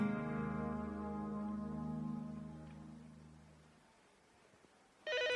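A telephone rings with a steady electronic tone for several seconds, then falls silent before a brief new tone starts at the end.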